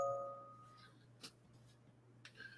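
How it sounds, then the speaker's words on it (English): A mobile phone gives a short, faint tonal notification chime at the very start, a couple of steady pitched notes over a quiet room hum, followed by small clicks. "That was my phone go off."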